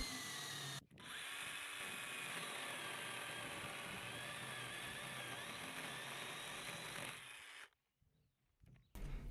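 A Dnipro-M CS-12 cordless mini chainsaw buzzes steadily through dry wood for several seconds, loud and close, then cuts off abruptly.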